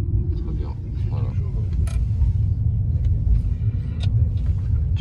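Custom-tuned car once owned by Samuel Eto'o, its engine giving a steady deep exhaust rumble close by, with a voice talking faintly over it.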